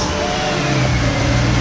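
A BMW M3 engine idles steadily with a low continuous hum, close and fairly loud, with no talk over it.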